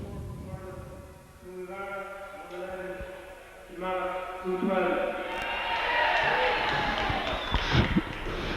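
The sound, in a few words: crowd cheering for Kilmallock's win at hurling match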